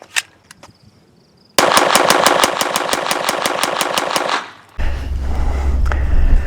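A rapid string of about twenty evenly spaced shots rings out with Mini Mag ammunition, loud and sharp after a few faint isolated pops, then stops abruptly and leaves a low rumbling background.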